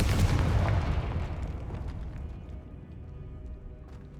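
A Confringo explosion spell in the Hogwarts Legacy video game, one big deep blast that opens loudly and rumbles away over several seconds, alone without talk.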